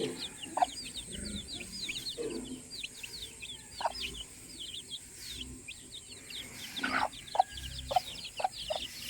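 Chickens clucking and calling in short bursts, with a rooster-like call and scattered bird chirps over a quiet outdoor background.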